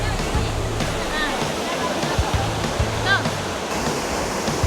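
A waterfall about 15 meters high at Krueng Kaleung in Lamno, Aceh Jaya, roars as a steady, loud rush of falling water close by, with a few brief squeaks and faint voices under it.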